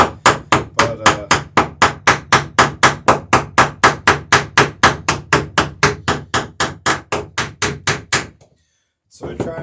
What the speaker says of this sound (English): it's much harder to drive a rivet at an angle than it is to hold the backing block at the proper angle